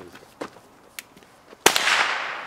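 A single sharp gunshot from a firearm at an outdoor shooting range cracks loudly and close, followed by a broad rushing wash, with faint clicks and handling noises before it.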